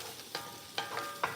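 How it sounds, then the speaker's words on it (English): Onions sautéing in a Ninja cooker pot, a faint soft sizzle broken by three sharp clinks or scrapes of a utensil against the pot, close and quiet with no talk. "We are going to turn the sauteed onions off because those are gonna burn"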